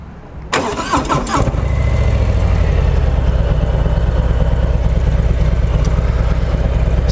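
A 2018 Harley-Davidson Heritage Classic with the Milwaukee 114 V-twin cranks and fires up, then settles into a loud, close, lumpy idle with a steady throbbing rhythm.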